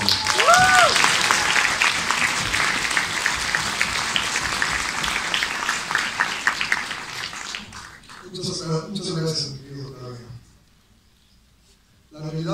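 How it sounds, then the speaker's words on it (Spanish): Sustained applause from a festival opening crowd, dense steady clapping for several seconds that tapers off, followed by a brief stretch of speech and near silence. "Un fuerte aplauso."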